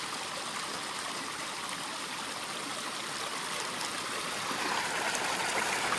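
Spring water flows straight out of the ground and runs downhill into a creek at Big Spring in Highland, Wisconsin, a steady broadband rushing and trickling that swells slightly louder toward the end.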